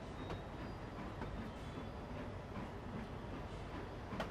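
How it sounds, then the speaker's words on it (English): A train in the Trainz Railroad Simulator 2019 video game rumbles along steadily with a dense, continuous low roar and faint rattling, loud and close, with no voices. "The train does sound a little different"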